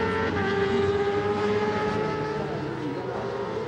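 World Supersport racing motorcycles at Magny-Cours scream at high revs, a sustained, steady engine whine with harmonic tones from bikes passing on track, heard at moderate distance.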